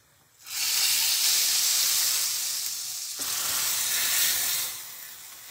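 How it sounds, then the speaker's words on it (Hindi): Hot oil tempering poured onto boiled lentils hits with a sudden loud sizzle that hisses steadily, dips briefly, flares again and then softens, with no voices. "इसको मिक्स करते हैं और उसके ऊपर ही डालेंगे हम ये तड़का"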